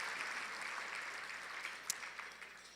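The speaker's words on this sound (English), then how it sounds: "So please give them a round of applause." Audience applause at a city State of the City address honoring sponsors, a steady, fairly quiet wash of many hands clapping with one sharper clap standing out near the end.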